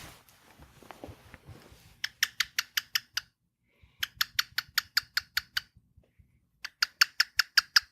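A pet cockatiel making rapid clicking sounds in three bursts of sharp, evenly spaced clicks, close and distinct, after a short stretch of soft rustling.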